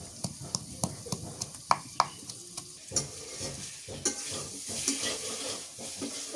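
Pointed gourd (potol) fries in a pan, with a run of sharp spatula scrapes and taps against the pan over a steady sizzle that grows louder and fuller toward the end.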